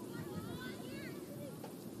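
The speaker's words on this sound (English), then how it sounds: "Bit windy here" Gusty wind buffets a microphone at an outdoor soccer match in San Francisco, a steady low rumble with faint crowd babble underneath.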